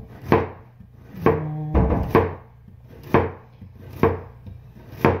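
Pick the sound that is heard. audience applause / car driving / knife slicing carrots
knife slicing carrots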